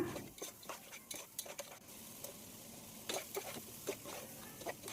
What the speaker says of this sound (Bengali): তো এখন আমি ভালোভাবে কষিয়ে নেই।